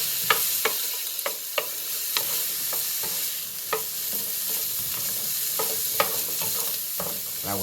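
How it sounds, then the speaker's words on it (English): Garlic sizzles in a hot pan for Spanish-style beef stew, a constant bright frying hiss punctuated by sharp scraping taps of a spoon stirring and moving it around. "Our garlic, make sure it doesn't get burned. Keep moving it around."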